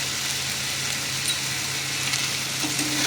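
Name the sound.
elephant foot yam being stirred and fried with spices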